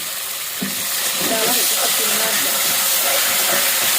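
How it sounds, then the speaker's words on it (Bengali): Tomatoes sautéing in a hot pan with spices for a winter vegetable curry with cauliflower, beans, potato and rohu fish: a steady, loud broadband sizzle and hiss throughout, with faint stirring scrapes and no talk. "এই টমেটোটা একটু কষাইতে কষাইতে আমি মশলাগুলো দিয়ে দিই"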